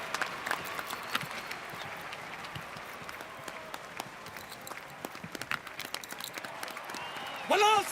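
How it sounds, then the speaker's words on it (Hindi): Audience applause greeting Kanwar Singh and his Ramlila drama company at a stage performance, a steady wash of many hands clapping at moderate volume, with voices rising near the end. "तो जोरदार तालियों के साथ स्वागत कीजिए कंवर सिंह जी का और उनके ड्रामा"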